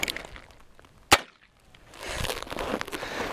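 One sharp, crisp crack of a .22 Long Rifle shot at a target, brief and fairly close, followed by quiet and then a stretch of soft background noise.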